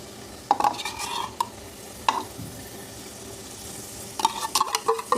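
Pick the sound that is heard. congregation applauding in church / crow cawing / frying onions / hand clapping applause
frying onions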